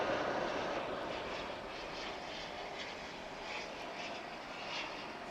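A heavy airliner taking off at DFW International Airport, a broad steady engine roar at a distance that fades slowly as it climbs away.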